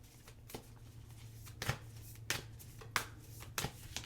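Oracle cards riffled and shuffled by hand, a run of soft papery flutters with several crisp snapping bursts at uneven intervals, close and fairly quiet, with no talking.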